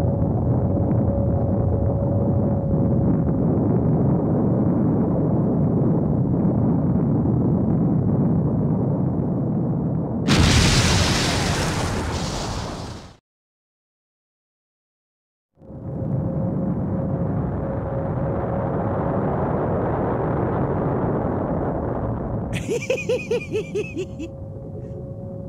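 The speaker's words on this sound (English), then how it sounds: "Mega Man, if we're not careful, we'll be caught in the explosion" Loud explosion and rumbling in the video game Mega Man Legends, a continuous roaring blast with a burst of bright crackling, a brief silence, then sustained rumble returning with higher debris clatter near the end.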